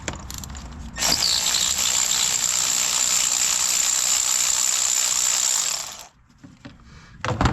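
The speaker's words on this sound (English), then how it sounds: "Now you're going to take your 14 millimeter and you're going to get it down in the hole, break them loose." A ratchet with a 14 mm socket works bolts loose on a Toyota Corolla Hybrid, a loud, steady mechanical whir that runs for about five seconds before stopping, followed by faint clicks.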